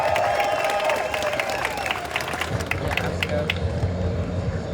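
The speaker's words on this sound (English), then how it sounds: "Please, everyone, a big applause for Sebastian Sutherland." An audience at Trans Pride Amsterdam breaks into applause for a speaker, a dense patter of clapping close by that thins toward the end as a low murmur of voices rises.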